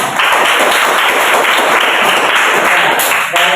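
A classroom bursts into loud, dense applause with many hands clapping together; it holds at full volume throughout with no talk over it.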